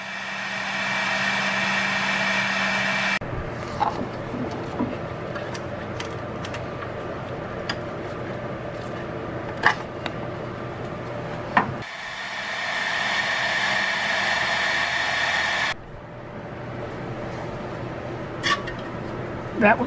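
A heat blower warms the spark plug wires on a Caravan 3.0L engine during a cold-weather job, its steady whooshing hum switching on and off in long stretches between clicks and clatter from the work.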